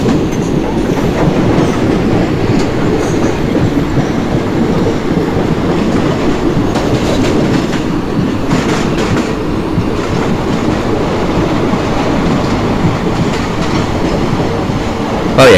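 A train hauled by a WDP4D diesel locomotive stands at the outer signal of Bhusaval station, giving a steady, loud rumble of idling engine and rolling-stock noise with faint clatter throughout, no voices.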